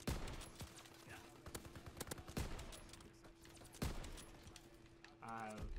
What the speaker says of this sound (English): I shot 6 bullets or more